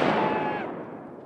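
Simulated grenade blast on a military sniper competition course: one loud, close burst that rings out and fades over about a second, with no voices.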